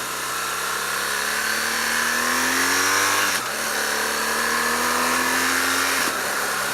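A BMW R1200GS motorcycle engine revs hard while riding, a loud steady drone climbing in pitch through two gear pulls, with a brief dip at the shift between them.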